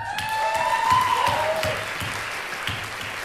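A concert audience claps steadily throughout, dense and sustained, with a faint held tone and low thumps underneath.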